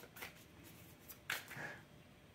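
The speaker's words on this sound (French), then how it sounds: "je vais tirer qu'une carte" A tarot card is drawn from the deck, giving faint soft card slides and brief papery swishes in a quiet room.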